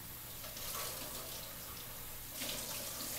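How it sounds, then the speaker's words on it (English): A kitchen sink tap runs water steadily over a bell pepper to rinse out its seeds, making an even, continuous hiss that splashes a little harder near the end. "rinse out all those little seeds."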